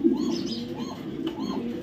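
Racing pigeons give soft, repeated rolling coos in a steady rhythm, close by under a low background hum.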